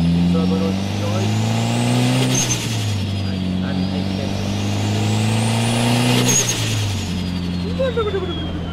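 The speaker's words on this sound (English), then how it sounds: "Turbo noise, guys." Turbocharged Mitsubishi Lancer Evo 7 driven hard on the street, its engine note rising and dropping through repeated gear pulls with whistling turbo spool and sharp release hisses. A voice talks over the engine.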